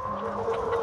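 Chickens on a homestead give a brief, close cluck or two over a steady background hum, with no talking.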